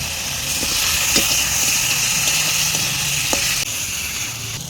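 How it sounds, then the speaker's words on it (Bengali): Fried potato and eggplant meet hot masala in oil for a fish curry, producing a loud, steady sizzle with a few light clinks of stirring and a small drop in hiss toward the end. "এখন দিয়ে দেব ভেজে রাখা আলু এবং বেগুন।"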